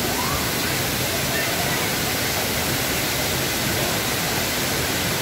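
A steady, dense roar of falling water fills everything evenly from start to finish, like the nearby Benang Kelambu waterfall on Lombok, with no breaks or other sounds.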